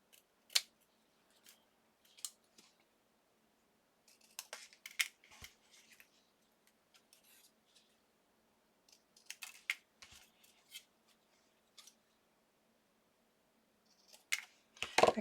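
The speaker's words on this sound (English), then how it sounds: "I cut the corners and then I just put it back together and then trimmed it." Scissors snipping the corners of a small artist trading card, quiet crisp cuts in short clusters separated by near silence, close up and without speech.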